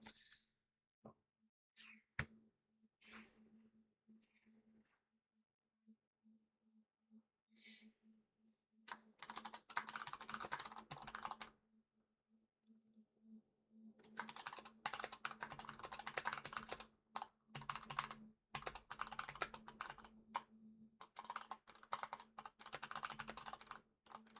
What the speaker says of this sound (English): I am typing up something